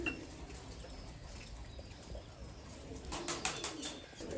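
Pigeons in a rooftop loft give soft, low coos against a hissy outdoor background, with faint fluttering and a slight rise in activity toward the end.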